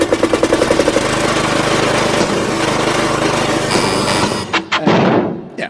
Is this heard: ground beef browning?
no